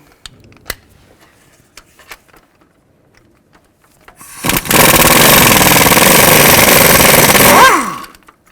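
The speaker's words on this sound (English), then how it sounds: "Now you're going to take these bolts out, use a 13mm socket, and there should be 6 of them." Bolts being driven out with a 13mm socket on the engine of a 2000-2006 Chevy Tahoe, heard as a loud, continuous rattling impact-tool burst of about three seconds after a stretch of quiet clicks and handling noises.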